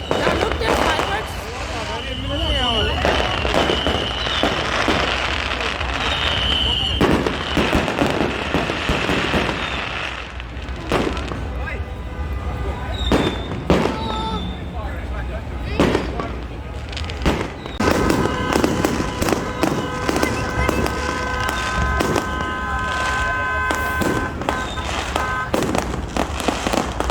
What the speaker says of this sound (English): Now look, there's fireworks.